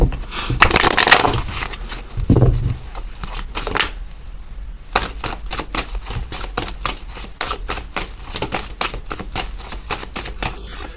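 Tarot cards being shuffled up close: a quick riffle and handling at first, then a long run of rapid soft flicking and tapping.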